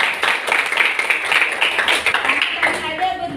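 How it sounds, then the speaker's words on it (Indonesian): Scattered clapping from students in a classroom, a brief burst of uneven claps with voices mixed in. "kasih tepuk tangan dulu."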